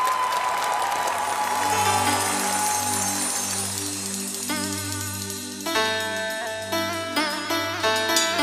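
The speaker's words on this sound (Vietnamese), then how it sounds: "Một tràng pháo tay để chào đón hai chiến binh đến từ đội huấn luyện viên Minh Tuyết và Quang Lê." Studio audience at a televised singing competition applauding to welcome two contestants, broad clapping that fades as music with bright tinkling tones comes in and builds.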